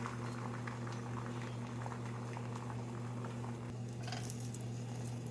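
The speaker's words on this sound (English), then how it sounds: "Now you add your egg evenly into the pan, trying to make sure that there aren't any holes." Egg cooking in butter in a pan, a continuous soft sizzle and crackle with fine popping over a steady low hum.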